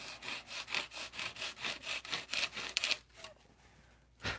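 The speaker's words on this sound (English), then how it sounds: "So now I'm going to sand the sheeting ends." Sanding the sheeting ends and spars of a Tucker XL model aircraft wing, heard as steady rhythmic back-and-forth scratching strokes close by, about a dozen in quick succession before tapering off into quiet.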